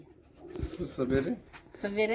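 Pigeons coo nearby in short soft low-pitched calls, heard under and between the words of a person talking close to the microphone.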